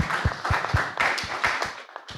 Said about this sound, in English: Join me in giving a round of applause to Tim Trevan for facilitating us.